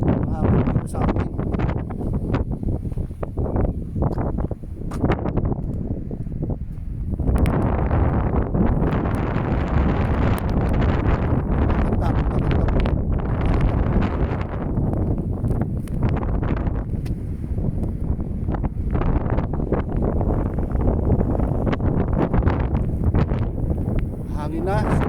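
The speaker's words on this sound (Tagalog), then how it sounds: "Lakas ng hangin dito sa akin." Strong, cold wind from a snowstorm roars across the microphone in loud, continuous buffeting gusts. A person is heard speaking underneath it.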